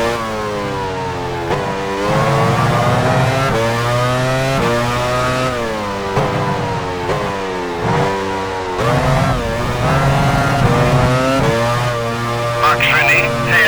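F1 car engine from the video game F1 Challenge 99/02 at the 1999 Belgian Grand Prix at Spa-Francorchamps, pulling out of the pit lane, a loud continuous high-revving whine with rising and falling pitch sweeps under steady commentary.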